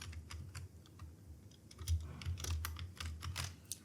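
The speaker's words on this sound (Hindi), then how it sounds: "मैं चलिए यहाँ से फिर से लिखता हूँ रोहित।" A name is typed on a computer keyboard while building an Excel search bar, producing a quiet, irregular patter of soft key clicks that grows a little busier toward the end.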